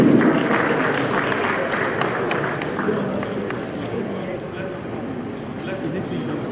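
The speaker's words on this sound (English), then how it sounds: "A round of applause for him, please." An audience at an education policy launch gives a round of applause for a commerce and industry representative, a broad wash of clapping that starts strong and slowly thins, with voices murmuring underneath.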